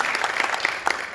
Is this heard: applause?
yes